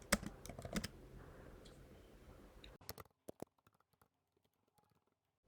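Keystrokes on a computer keyboard while entering C++ code, a dense run of clicks for about three seconds, then a few sparse, isolated taps trailing off into near silence.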